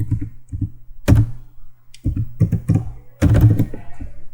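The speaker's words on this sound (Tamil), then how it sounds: "கிளிக் பண்ணிட்டு உங்களுடைய ஆதார் நம்பரை டைப் பண்ணிக்கோங்க" An Aadhaar number is typed on a computer keyboard in short, uneven bursts of close, crisp key clicks separated by brief pauses.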